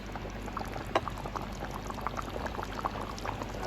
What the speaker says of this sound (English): I'm gonna stir this in and let everything simmer together.